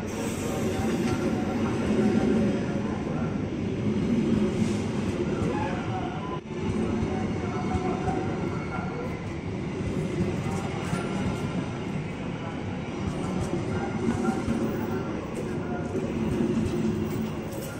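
A KRL Bekasi Line commuter train pulls into Manggarai station, its loud, continuous rumble and rail noise filling the platform air without a break, with a brief clunk midway.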